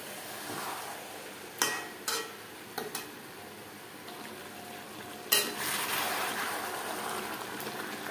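Chicken and potato curry cooking on high flame, with a steady sizzle and several sharp clinks and scrapes of a utensil against the pot.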